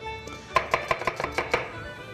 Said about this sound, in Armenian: հիմա մանր կկտրատենք սոխը